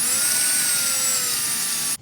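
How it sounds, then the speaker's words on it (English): Power drill with a 5/16 bit boring out a stripped brake caliper bolt on a Jeep Wrangler: a steady, loud, high-pitched whine that holds for about two seconds, then cuts off abruptly. "We've used the 5/16 to drill it out a little bit."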